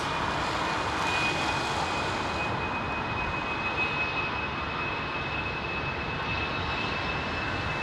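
Boeing 777-300ER jet airliner on the runway at London Heathrow preparing for takeoff, a steady, loud broadband engine roar with a thin high whine running throughout.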